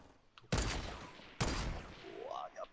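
Gunfire in the video game Fortnite: two sharp, loud shots about a second apart, each trailing off in a short echo, with a brief voice-like tone near the end.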